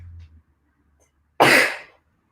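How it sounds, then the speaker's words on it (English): A single sharp human sneeze, close and loud, bursting out after a moment of near silence and trailing off over about half a second. "Sorry, I'm about to"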